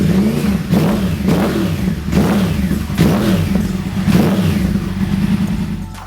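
A Yamaha R1 motorcycle's inline-four exhaust revs loudly and close, the engine note repeatedly climbing and falling in rhythmic pulses with no one talking.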